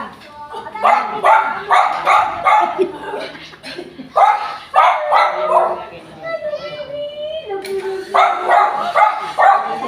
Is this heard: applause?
no